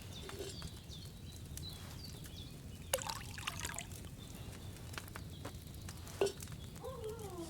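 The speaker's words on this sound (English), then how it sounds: "First, you have to pour the right base into the cauldron" A pitcher pours liquid into a cauldron during an alchemy scene in the video game Kingdom Come: Deliverance II. It is a soft, faint trickle under steady ambient noise, with occasional bird calls.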